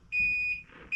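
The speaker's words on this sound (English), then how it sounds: "More beeps. Lots of beeps." Electronic beeps from a Chamberlain garage door opener: a sustained high tone followed by a second beep, sharp and close, with no talking.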